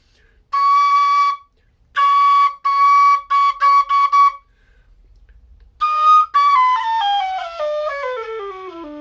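A Dante low D tin whistle plays high notes in its second octave, loud and close, in short bursts and held tones, then runs down in a descending scale of stepped notes.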